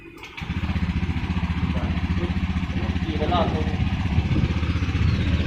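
Honda Scoopy motor scooter engine starting: a brief click and catch, then a close, steady, buzzy idle that rises a little in revs, with a person talking over it.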